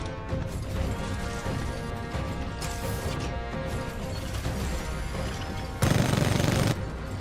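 Titan weapons firing in Titanfall 2, heavy repeated blasts and crashes over mechanical clatter, ending in a loud broad impact burst.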